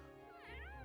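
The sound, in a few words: cat meowing in the video game Trails of Cold Steel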